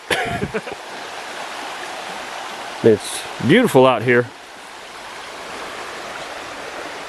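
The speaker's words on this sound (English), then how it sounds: "we're getting ready to start one of probably 3 stream crossings" A forest stream at a trail crossing in Pisgah National Forest rushes steadily with a broad, even hiss that runs the whole time, while a person speaks briefly partway through.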